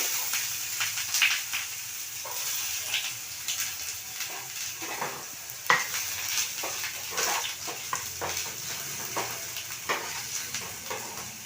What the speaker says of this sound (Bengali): একটা ফ্রাই প্যান নিয়েছি তার মধ্যে চার চামচ তেল দিলাম দিয়ে এবার পেঁয়াজ কুচোগুলো দিয়ে দিচ্ছি প্রথমে